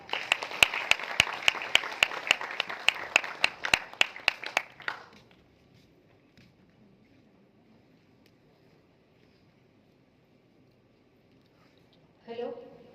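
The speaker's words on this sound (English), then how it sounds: "please make a huge round of applause for ma'am" A handful of people at a talk or seminar clap in a brief, sparse round of applause, distinct individual claps for a few seconds before it fades into quiet room tone and a short noise near the end.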